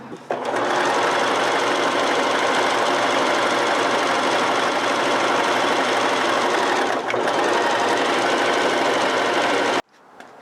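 Sewing machine zigzag-stitching fabric, a loud, close, continuous rapid clatter with a slight hitch midway, stopping abruptly at the end.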